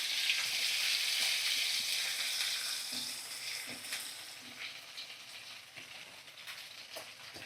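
Finely chopped small onions hit a pan of hot oil with cardamom over medium flame and sizzle loudly, the hiss easing as they settle, with a few soft stirring clicks and no speech.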